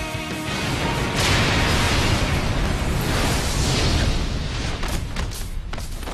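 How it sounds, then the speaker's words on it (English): Explosions in the video game Sonic '06 roar as a dense, sustained blast of broadband noise, loud and rumbling for several seconds with rapid crackling bursts near the end. "Not when explosions are happening."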